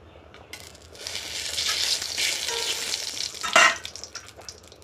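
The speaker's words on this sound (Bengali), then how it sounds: "শুক্তোটাকে ফোড়ন দেওয়ার জন্য একটু কড়াইতে তেল দিয়ে দিলাম" Hot oil in a kadai sizzles as spices and a bay leaf go in to temper shukto. A steady close frying hiss swells with a louder burst of spattering toward the end, and no one speaks.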